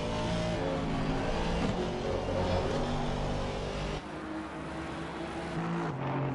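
An Aston Martin GT4 race car engine in Assetto Corsa Competizione roars continuously at high revs at Misano, with a sharp shift in tone partway through as it drives on.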